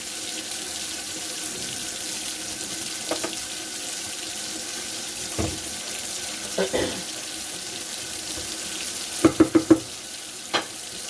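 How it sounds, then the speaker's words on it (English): Water from a kitchen sink pours steadily as pasta noodles for chicken alfredo are drained, a continuous rushing wash with a few soft clunks and taps late on. "I'll put this off in the sink so I can strain my noodles."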